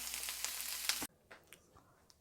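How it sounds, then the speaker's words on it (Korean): Shrimp heads stir-frying in butter give a dense, close sizzle for about a second, then cut abruptly to near quiet with a few faint clicks and taps. "색이 좀 더 노릇노릇해질 때까지 볶고"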